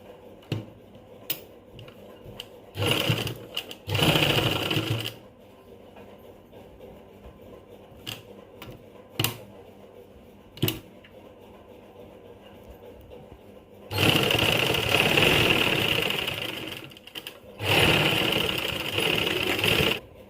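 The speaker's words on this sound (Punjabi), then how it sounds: "ਦੂਸਰੀ ਸਾਈਡ ਵੀ ਆਪਣੇ ਇਸ ਤਰੀਕੇ ਨਾਲ ਤੀਰੇ ਦੀ ਸਿਲਾਈ ਲੱਗ ਗਈ ਹੈ" A sewing machine stitches a lace neckline in several loud, steady whirring runs of a few seconds each, separated by quieter pauses with scattered clicks and handling noises.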